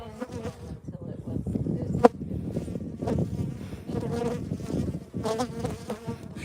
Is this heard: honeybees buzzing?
yes